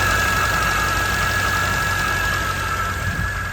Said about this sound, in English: But just listen to the little whine on turnover.